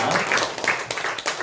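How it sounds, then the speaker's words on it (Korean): A congregation claps in a steady burst of applause during a church Sunday worship service, dense and sustained throughout, with faint voices mixed in. "지금까지 인도하신 하나님께 우리 감사함으로 우리 박수하겠습니다."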